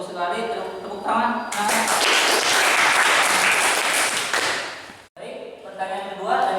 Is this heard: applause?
yes